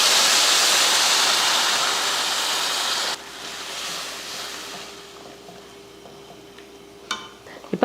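Hot water poured into a pan of rava and vegetables makes a loud, hissing rush of liquid for about three seconds, then softer bubbling and sizzling, with a couple of faint utensil knocks at the end.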